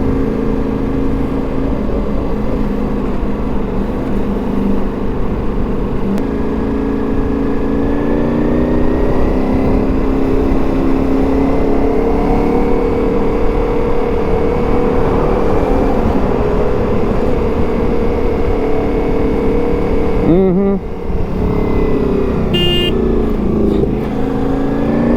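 A Ducati Multistrada V4 S motorcycle lane splits through moderate traffic, its engine a loud, steady close drone with wind rush and brief swells, and no voices.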